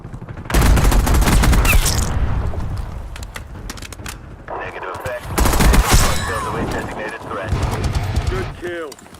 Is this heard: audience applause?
no